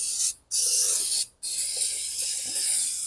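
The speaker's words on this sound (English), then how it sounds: "Scraping off the old silicone now." Old silicone being scraped off rear brake parts of a Mack Cruise-Liner cab-over truck: steady raspy, hissy scraping strokes close up, broken by two brief pauses, with no talking.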